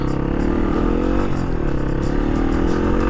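A Yamaha XT250 dual-sport motorcycle runs flat out up a highway hill, its engine droning loud and steady at high revs throughout, mixed with road and wind rush.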